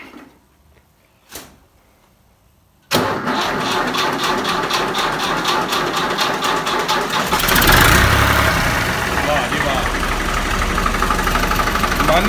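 A tractor engine in a cold village setting cranks and catches after a couple of faint knocks, then settles into a loud, steady idle that rises slightly in intensity toward the end, with no talking over it.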